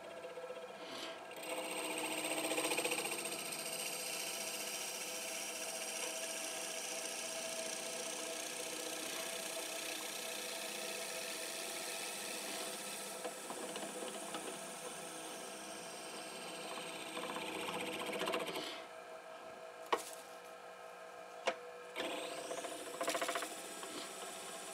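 A lathe motor drones steadily with a tonal whine while drilling a cholla cactus pen blank, slowing partway through, then a few sharp clicks and knocks near the end.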